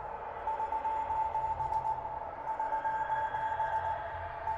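Steady electronic tone near 1 kHz pulsing in an irregular Morse-like on-off pattern over a low droning ambience in the dark horror game Without a Dawn, with no voices.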